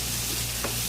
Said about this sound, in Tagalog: Igisa na natin ang ating mga lamas.